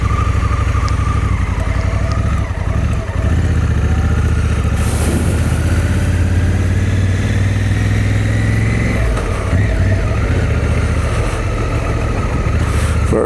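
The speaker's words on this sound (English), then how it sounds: "Hell of a big old engine, big old 1100cc parallel twin, single overhead cam" A Honda Africa Twin's 1100cc single-overhead-cam parallel twin idles close by, a steady, deep, even thrum holding for over thirteen seconds with slight swells in pitch and no voices.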